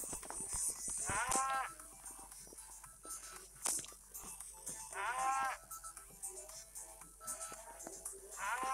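Cows moo in the Fernanfloo video game, several drawn-out calls spaced a few seconds apart over scattered game clicks and effects, fairly faint overall.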